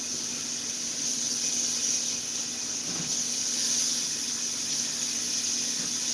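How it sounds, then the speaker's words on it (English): Tap water running steadily into a sink during handwashing, a constant bright hiss with a faint tonal whine, near and unbroken. "Let me wash my hands and we will get started."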